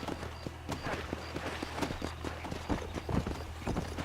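Horse hooves gallop in a rapid, steady clip-clop rhythm in Red Dead Redemption, loud and close, with faint voices mixed in.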